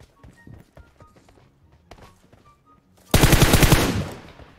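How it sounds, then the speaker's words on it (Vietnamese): Gunfire in PUBG Mobile: faint scattered shots and footsteps, then a loud close burst of rapid automatic fire lasting about a second before trailing off. "Coi đâu cũng bắn."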